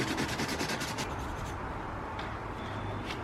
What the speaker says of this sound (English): all we're gonna do basically is we're just gonna grind away this little piece right here